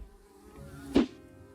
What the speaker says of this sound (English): It's full of wasps.